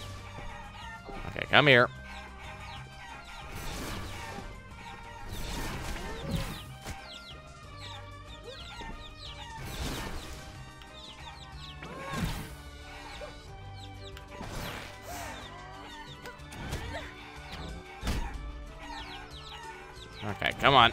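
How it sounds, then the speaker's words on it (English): A chicken in the video game Guacamelee clucks and squawks in repeated bursts across a busy game soundscape, with someone talking over it at intervals. "I have to get a chicken to this man"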